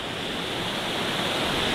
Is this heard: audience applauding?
no